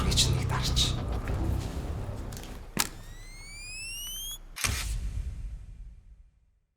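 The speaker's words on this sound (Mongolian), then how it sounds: "Бичлэг эхлэхээс өмнө та нарын зургийг чинь нэг дарч." Two sharp camera shutter clicks snap a photo, standing out over a person talking and a background of rising electronic chirp tones.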